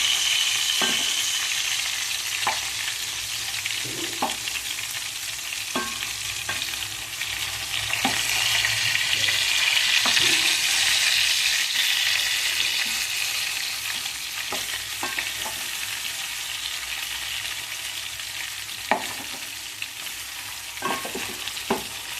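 Eggplant curry sizzles and fries in a pan with a constant crackling hiss, while a spoon scrapes and stirs in repeated short strokes every second or two, without any talking.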